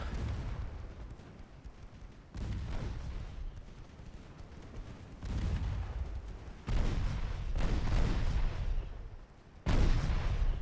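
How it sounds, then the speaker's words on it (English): Naval gunfire in the UAD naval warfare game with a 1955 Ottoman campaign, small 2-inch guns joining the battle: rolling, overlapping booms and cracks that swell in several loud bursts over a continuous low rumble, with no talking. "even the 2-inch guns are joining in"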